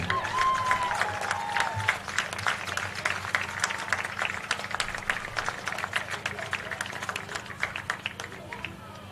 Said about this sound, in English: Royals fans, let's give our 2024 Homecoming Royalty one more big round of applause.